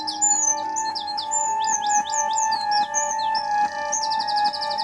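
Birds chirp and tweet in quick repeated rising calls over a sustained steady tone, the chirps clear and close, with no voices.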